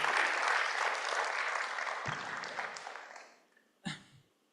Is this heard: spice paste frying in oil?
no